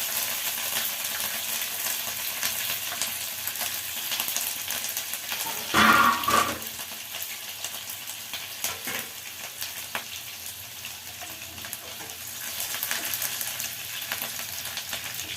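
Green chillies dropped into hot oil with cumin seeds and bay leaves that have already darkened, giving a brief, loud sizzling burst midway through an otherwise steady low background hiss, with no talking.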